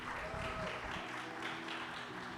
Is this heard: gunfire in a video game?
no